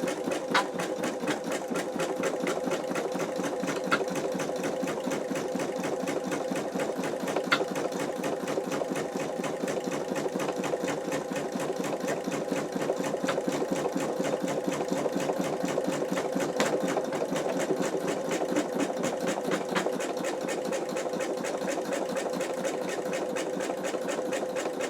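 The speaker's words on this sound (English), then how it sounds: "it's just doing another stitch all the way around to fasten, to make sure that it is fastened down, and then it will start the satin stitch" A home embroidery machine stitches an in-the-hoop wallet, a steady rapid mechanical whirring with a fine needle rhythm, running close and continuous without pause and with no talk.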